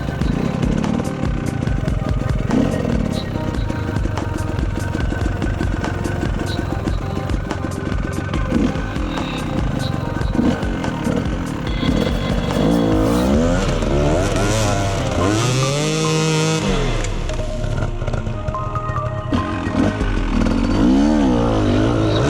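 Enduro motorcycle climbing in second gear on a cross-training trail, engine loud and close with repeated revving surges and clattering as it labors up toward a log.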